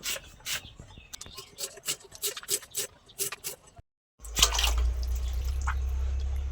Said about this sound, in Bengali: এটা ধোয়া আছে, তারপরেও আমি ধুচ্ছি।